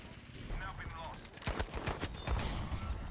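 Bursts of M3 grease gun fire in the Battlefield 5 multiplayer shooter, loud, close and rapid, with the heaviest volleys in the second half amid other battlefield gunfire and ambient noise.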